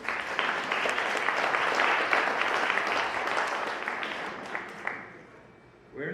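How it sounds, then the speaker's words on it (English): An audience applauds at a celebration for a second book launch, a steady wash of clapping that stays dense for several seconds before thinning out, with some voices mixed in. "Give yourself a round of applause."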